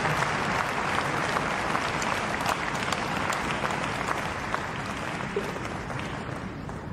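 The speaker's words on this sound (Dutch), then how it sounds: "Maar mag ik nog een groot applaus voor het duo Oosthuizen-Sjoeker en De Groot van Kool." Crowd applause after a wheelchair tennis doubles final at an indoor tennis event, sustained even clapping with occasional sharper claps standing out, slowly easing toward the end.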